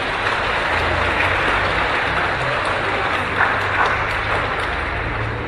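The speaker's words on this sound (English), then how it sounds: "You may clap your hands now." A church congregation at a Feast of Lights pageant claps their hands in a sustained, fairly loud wash of applause filling the room, with a low background rumble and no clear speech on top.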